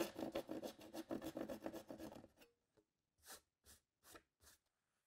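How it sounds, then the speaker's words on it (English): A tenon saw cuts a notch out of an engineered wood flooring plank, rasping in quick back-and-forth strokes close by, then slowing to a few separate, lighter strokes as the piece comes free. "then I'm going to take my tenon saw and cut that out."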